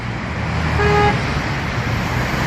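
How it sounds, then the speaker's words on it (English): Car horns honk in stopped highway traffic, one clear sustained toot rising above the loud, steady rumble of idling and passing vehicles close by. "We got everybody, they're honking."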